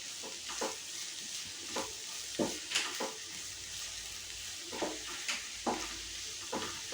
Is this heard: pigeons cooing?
no